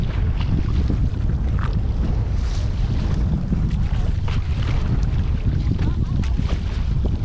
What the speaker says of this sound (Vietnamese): gió già quá chèo không nổi luôn